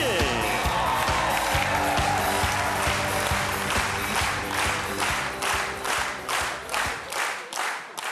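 Studio audience applause on a Korean TV comedy show, a loud steady wash of clapping and some cheering that thins into separate claps near the end.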